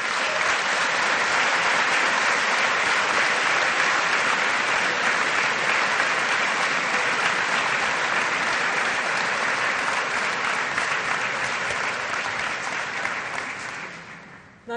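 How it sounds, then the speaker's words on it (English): Sustained audience applause at a university graduation ceremony, a dense, even roar of clapping from a large crowd that holds for many seconds before fading out at the end. "ask the new graduates to give a round of applause to everybody who put up with them over the last little while"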